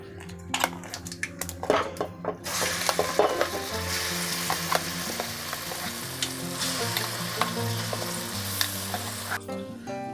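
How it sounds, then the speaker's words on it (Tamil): Ground okra paste and popped mustard seeds fry over a medium-low flame for thuvaiyal, giving a steady close sizzle with crackling pops and scraping as it is stirred without pause, and no talking. "இப்போ மீடியம் லோ ஃப்ளேமில் நல்லா கை விடாமல் கிண்டிகிட்டே இருங்க."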